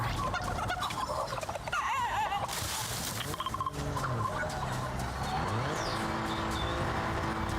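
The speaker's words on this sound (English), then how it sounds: "The chicken." A chicken clucks and gobbling fowl calls rise amid a busy mix of game sounds and vehicle noise, fairly loud, with the bird calls layered among other effects.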